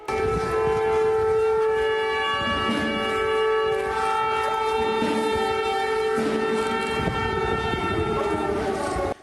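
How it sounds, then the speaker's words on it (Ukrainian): A loud, steady air raid siren wails continuously during a funeral in Ukraine, its tone sustained and dominating, with faint background murmur beneath it. "спів панотців перериває сирена"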